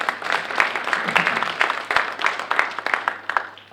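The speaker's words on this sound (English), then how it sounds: "Let's give yourself a big round of applause." A crowd at an African American Read-In event applauds, a steady wash of many hands clapping at moderate loudness that carries on throughout with a few voices mixed in.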